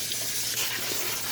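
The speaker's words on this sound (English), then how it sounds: "I'm just going to spray them off a little bit here" Water sprays steadily over collard greens in a colander, a continuous hissing rush heard close and alone.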